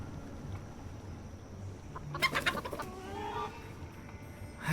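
A chicken clucking in the game Foolish Mortals: a short burst of quick scratchy clucks and flutter near the middle, over a steady ambient background hum.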